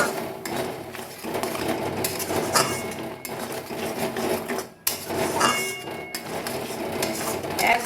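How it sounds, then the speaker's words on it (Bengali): Milk and sugar for kheer are stirred in a pan, with a spoon repeatedly scraping and clinking against the metal over a soft simmering sizzle, steady and close for several seconds without talk. "নেড়ে নেড়ে খুব ভালো করে শুকিয়ে নেব"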